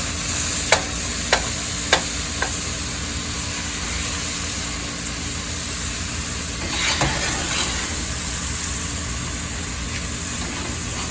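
A peppered steak for steak au poivre sears in a hot pan, a continuous loud sizzle with a few sharp clicks and knocks near the start and a brief surge of crackle partway through.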